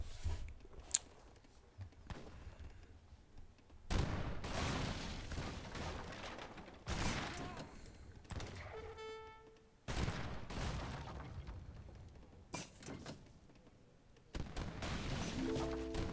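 Booming field cannon blasts and battle noise from the game Age of Empires, Empire Wars mode, come in heavy bursts separated by quieter gaps, with occasional electronic beeps.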